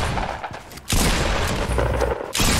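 Rapid gunfire in the battle royale game Fortnite, dense bursts of shots that cut out briefly and resume, loud and close with no voices.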